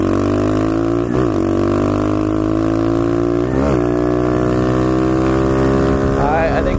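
Pit bike engine on a top speed run, a loud droning whine that climbs steadily in pitch through each gear, with two or three shifts dropping the revs, heavy wind buffeting throughout.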